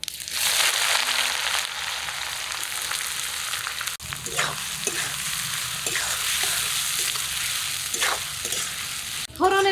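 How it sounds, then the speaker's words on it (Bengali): Chopped onions sizzle and fry in hot oil in a wok, with dried chilli, bay leaf, cumin and garam masala for a mutton curry; a steady loud hiss runs throughout, broken by scraping stirs and clinks. "ফোড়নের পেঁয়াজটা ভাজতে একটু বেশি সময় লাগবে"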